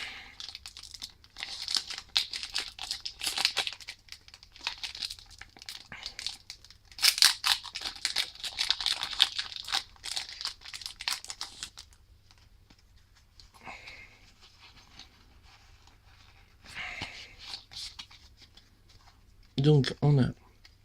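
A Pokémon card booster pack wrapper is torn open in repeated crinkling, ripping bursts. They come close and clear in clusters, with quiet gaps and sniffs between them.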